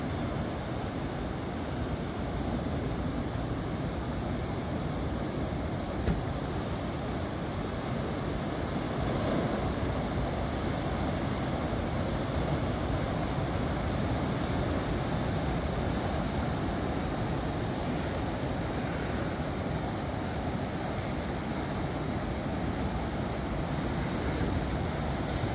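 Continuous roar of ocean surf from post-typhoon swell on the east coast of Taiwan at Taitung, a steady broadband wash of breaking waves with some wind, with no talking.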